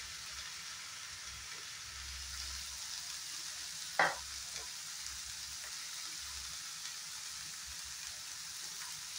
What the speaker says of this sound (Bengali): মশলাটা ফ্রাই হতে থাক।